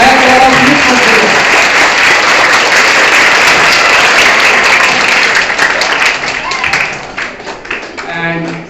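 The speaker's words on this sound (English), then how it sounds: "Clap all of you" School students clapping for quiz winners in a classroom maths quiz, loud, dense, sustained applause that thins and fades toward the end as a voice begins speaking.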